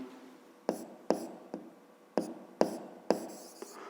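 A pen scratches on paper in about seven short, distinct strokes, spaced unevenly and recorded close up, as labels are written out for a school geometry exercise on a pyramid's edges. No one speaks.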